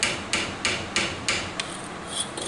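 A hammer drives a 1/4 inch nail into a wooden block in a shop, with about five sharp, evenly spaced strikes followed by a few lighter taps, close and clear with no talking.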